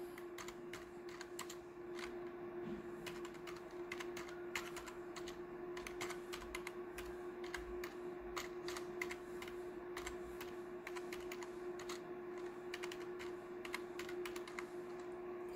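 Steady typing of commands on a computer keyboard in a Kali Linux terminal, a continuous run of quick, close key clicks over a faint constant electrical hum, with no talk.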